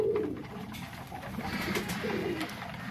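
Pigeons eating grit coo softly and repeatedly nearby, low throaty calls rising and falling over a quiet background.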